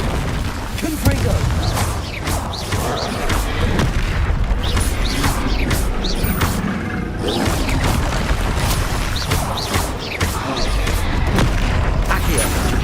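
Explosive Confringo spell blasts in Hogwarts Legacy, a dense, loud run of booms and crashing impacts over busy game effects, with talk between the blasts.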